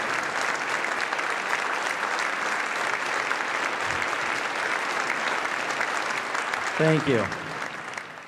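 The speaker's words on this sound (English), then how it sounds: "give yourselves an amazing round of applause" A concert hall audience breaks into sustained, dense applause, loud and continuous throughout, with a brief voice speaking near the end over the clapping.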